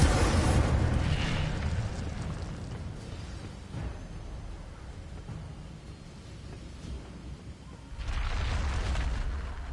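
A loud fiery blast from the Incendio fire spell in Hogwarts Legacy, with a roaring burst at the start that fades into a rumbling battle bed before a second heavy whoosh swells near the end.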